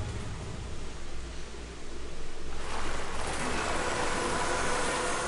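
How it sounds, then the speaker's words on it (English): A character wades through water in Wild Arms, a steady broadband sloshing and splashing that swells louder midway and continues without pause, with no talk over it. "I'm walking through water."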